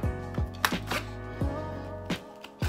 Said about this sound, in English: I got some scissors now, so let's get to cutting this up.